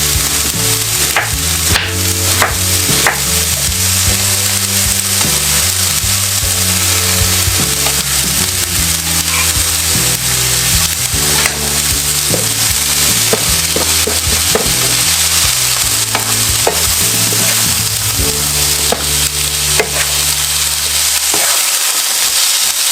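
Cabbage stir-frying in a pan, a loud continuous sizzle with repeated scraping and clacking from the stirring utensil against the pan, close up and alone.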